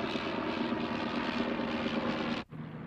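A propeller aeroplane engine drones steadily in flight, a loud continuous roar heard from inside the aircraft, briefly cutting out near the end before resuming.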